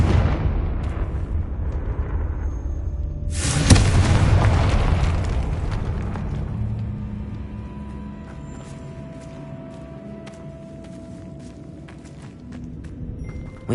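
A single loud booming explosion from a spell in Hogwarts Legacy, bursting suddenly and rolling off into a long fading rumble with scattered small crackles and steps afterward.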